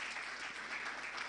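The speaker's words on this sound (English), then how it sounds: "Let's clap for Dr." Audience applause at an SME conference and expo, a dense, steady wash of many hands clapping, fairly soft and distant, holding evenly through the short stretch with no voices on top.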